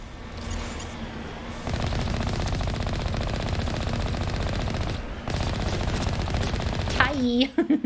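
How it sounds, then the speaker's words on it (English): Enemy gunfire in Mass Effect Legendary Edition rattles in long sustained bursts aimed at the player, pausing briefly between volleys, while a person talks. "Please stop shooting at me."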